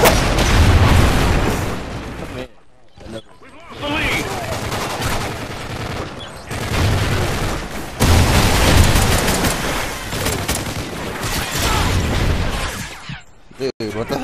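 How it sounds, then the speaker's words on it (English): Video game battle with loud, dense gunfire, machine-gun bursts and booming explosions in near-continuous volleys, a few short lulls between them, while players talk over the noise. "All you see is gunfire."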